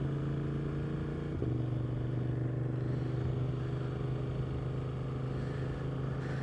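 A 2025 Suzuki GSX-8R motorcycle engine runs steadily at close range, a constant low drone with a slight shift in pitch around the second mark, continuing alone without talk.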